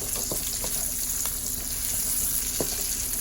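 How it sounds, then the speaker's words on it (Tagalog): Chopped garlic and dried bay leaves sauté in a pan with a constant close sizzle, with occasional spoon scrapes and taps cutting through the hiss. "some chopped garlic. Saute them until golden brown. Put dried laurel leaves."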